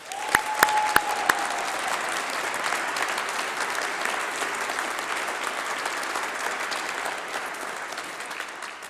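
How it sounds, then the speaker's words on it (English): Sustained applause from a university graduation ceremony audience fills a large hall, dense and steady clapping from many people with a few sharp louder claps near the start. "Give yourselves another round of applause."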